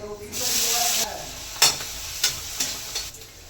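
Onions and chillies sizzling as they fry in a pan for Maggi noodles, a steady hiss with a few sharp stirring scrapes of a spoon, close and fairly loud.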